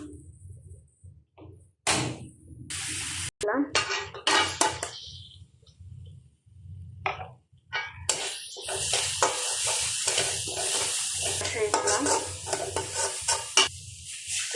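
Oil with tomato and onion paste sizzles and spatters in a pan, interrupted by scraping stirs and clanks of a utensil against the pot, growing into a steady loud hiss toward the end.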